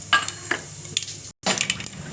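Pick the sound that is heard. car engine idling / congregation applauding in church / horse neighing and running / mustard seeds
mustard seeds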